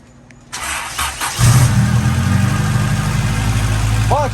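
A Honda B-series engine fitted with an aftermarket header cranks and fires up, then settles into a loud, steady, close idle with a deep rumble that runs to the end.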